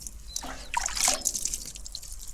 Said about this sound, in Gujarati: તો ધીમા હાથે પાણી અત્યારે છંટકાવ કરી રહ્યા છીએ વિડીયોમાં.